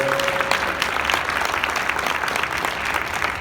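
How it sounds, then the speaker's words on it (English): A crowd at an outdoor youth art walk dedication gives a sustained round of applause, a thick, even patter of many hands at moderate loudness throughout, with a brief tone near the start. "can we give Miss Barnes a big round of applause?"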